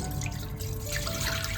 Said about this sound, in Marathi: सर्व दूध ह्याच्यामध्ये काढून घेतोय.